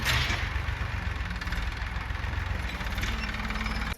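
A tractor runs in a farm field with a steady, close, low-pitched engine rumble and a faint knocking texture, holding at an even level throughout.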